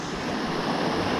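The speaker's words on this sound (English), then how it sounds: "You know me and my little waterfalls" Creek water tumbling down a small waterfall in Umpqua National Forest, a dense, steady close rush of splashing water with no pause across the brief moment, nothing else heard over it.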